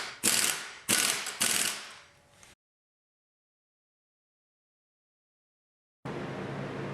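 Close, loud ratchet clicking in three quick bursts while a stock 24mm crank pulley nut is tightened down on an SR20DET engine in a Nissan 240SX swap, followed by a gap of silence and then steady workshop noise.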